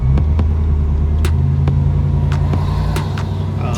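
A pickup truck engine fitted with a stage 2 truck cam idles with a loud, choppy, loping rumble close by, a steady deep throb broken by rhythmic uneven pulses.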